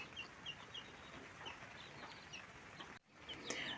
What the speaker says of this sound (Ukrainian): тут у нас вирощується курчатка